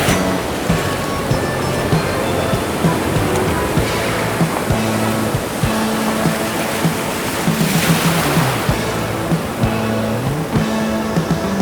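Ocean surf at Wickaninnish Beach near Tofino on Vancouver Island in fall rolls and breaks continuously, a loud, dense roar of crashing waves with wind buffeting the mic and no voices.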